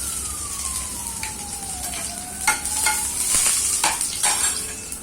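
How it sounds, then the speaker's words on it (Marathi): Ginger and garlic fry in a pan for masala dosa filling, a steady close sizzle with scraping stirs and clinks, and a falling whistle tone in the background. "अद्रक आणि लसूण घालायचं"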